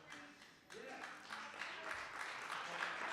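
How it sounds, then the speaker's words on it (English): Audience applause at a holiday church service swells in after a quiet start, a broad, steady wash of clapping from a live crowd that holds at moderate level to the end. "I love the 7 o'clock people when they get to clapping"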